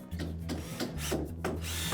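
A power driver runs a stainless steel screw into a hidden deck fastener clip, a close low motor drone that pulses in short repeated bursts.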